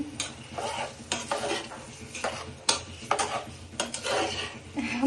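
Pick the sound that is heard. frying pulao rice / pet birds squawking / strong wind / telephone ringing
frying pulao rice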